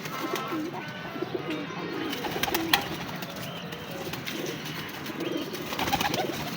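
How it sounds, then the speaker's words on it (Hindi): Caught pigeons, about 22 in a group, cooing softly and continuously at close range, with occasional wing rustles and small clattering knocks in the background. "ये उड़े उड़ाए कबूतर हैं।"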